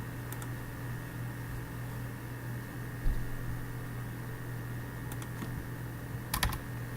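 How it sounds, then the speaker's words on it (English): Typing code on a computer keyboard, scattered quick keystroke clicks in small bursts over a steady background hum, close and fairly faint. "now we can simply just type in"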